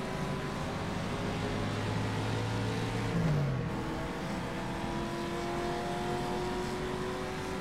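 A 1956-era race car engine in rFactor 2 at Monza hums steadily under partial throttle, pitch rising gradually after a brief dip, close and continuous with faint other cars around.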